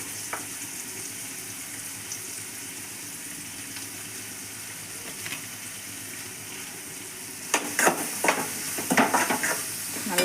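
Garlic, black pepper and cumin frying in a pan, a steady faint sizzle running throughout, with a burst of louder stirring and scraping clatters near the end.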